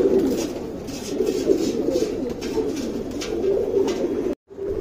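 Flying pigeons kept as pets coo steadily in a continuous low murmur close by, with overlapping soft calls running throughout and a brief dropout near the end.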